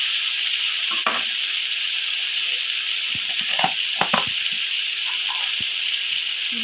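Tomato, chopped green chili, grated ginger and boiled potato frying in a wok for a green jackfruit curry, a constant loud hiss with scattered knocks and scrapes of stirring, close by, no voices.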